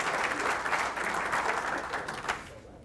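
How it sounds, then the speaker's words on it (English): A room of attendees at a public policy speaker series gives a steady round of applause for the event sponsors, the dense clapping holding evenly before tapering off at the end. "now we can do a round of applause for our sponsors"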